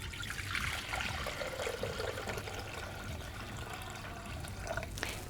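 A steady, continuous stream of water pours into a Thermomix mixing bowl, 1,000 grams of it, heard close and alone. A brief clink comes near the end.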